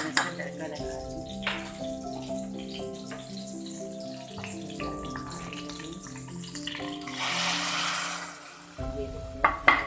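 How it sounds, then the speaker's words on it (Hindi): Hot oil tadka sizzles as it is poured over cooked dal for dhaba-style dal chawal. The hissing and frying swell near the end amid clinks of utensils and a steady background tone. "अब मैं इसमें तड़का लगा रही हूँ।"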